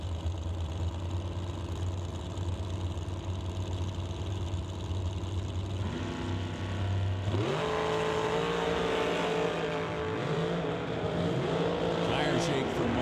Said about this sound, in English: Mark and Mike running in the box dragster category. Once again, racing to the 8th mile.